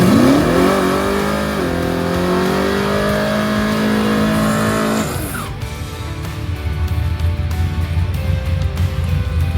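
Chevrolet Malibu drag race car launching down the track, its loud engine revving in rising harmonic sweeps for about five seconds before cutting to rougher, broadband mechanical roar and rumble.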